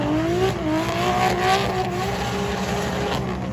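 A Nissan S15 competition car at a car meet, its engine droning steadily and loud with rising, wavering revs throughout, close by and unbroken with no talk.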